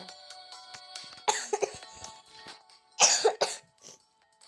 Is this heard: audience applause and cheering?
no